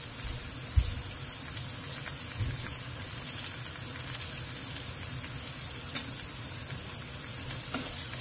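Onions temper in a pan with turmeric and salt, giving a soft, steady sizzle and light popping, with a few stir knocks against the pan.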